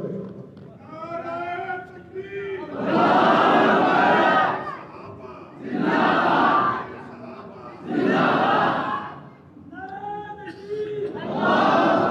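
A large gathering at a religious speech bursts into loud, rhythmic slogan chanting in repeated waves, with a leader's call and the crowd's roaring response alternating several times.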